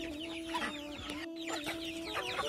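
Appenzeller Barthuhn hens and chicks clucking nearby, a busy overlapping mix of short clucks and high chick peeps over a steady background hum.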